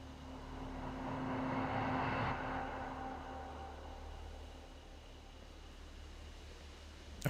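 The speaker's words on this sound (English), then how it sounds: "All right, here comes the aircraft" A propeller aircraft drones steadily overhead in a zombie survival video game, its engine swelling to a peak within the first couple of seconds and then slowly fading into a constant low hum, with no talking.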